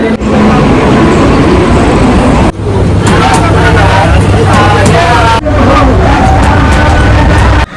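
A train bound for Mumbai, heard from inside, rumbles along steadily, its loud continuous roar and clatter filling the space, with a few brief shifts in the noise.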